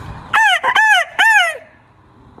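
A man vocally imitates a grey junglefowl's crow. Three or four quick, harmonic, broken calls rise and fall, then trail off into a fading drawn note, close and loud.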